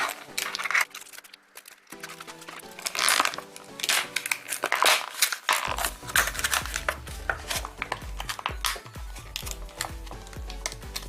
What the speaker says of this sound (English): we can just cut this one up and open it up to show you guys